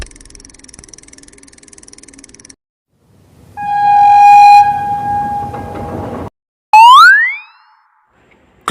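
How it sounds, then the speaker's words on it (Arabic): A train from a children's series on modes of transport: a loud horn-like tone over heavy rumbling wagons sounds for about three seconds, followed by a brief rising whistle, with no talk. "قطار."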